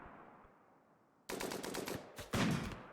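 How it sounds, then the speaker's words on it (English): A sniper turret fires in the video game Rimworld, giving two sharp, loud gunshot blasts with rattling tails, the second following shortly after the first. "This is a sniper variant. It can shoot damn far."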